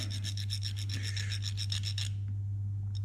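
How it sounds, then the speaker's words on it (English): A metric thread file rasps back and forth over the threads of an M8 bolt with 1.25 mm pitch, in about a dozen quick, even strokes, then stops. A low steady hum runs underneath, and no one speaks. "So I will take the thread file."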